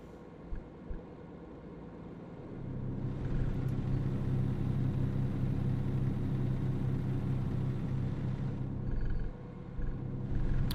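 A truck engine in American Truck Simulator rumbles at a low idle, then swells into a steady, louder drone for several seconds before easing back down near the end, with no talking over it.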